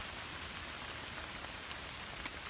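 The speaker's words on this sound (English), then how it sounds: "it's been raining pretty steadily" Steady rain falling on the Appalachian Trail: an even, constant hiss of drops with a few slightly louder patters and no voices.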